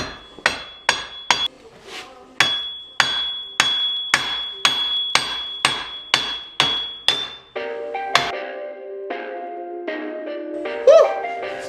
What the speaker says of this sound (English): Yeah, hammer these out.